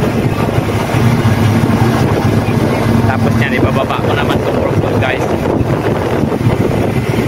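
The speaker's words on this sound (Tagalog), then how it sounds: "super duper lakas pa ng hangin" Strong sea wind buffets the microphone aboard a work boat, a loud, steady roaring rush mixed with engine drone and water noise, while someone talks over it.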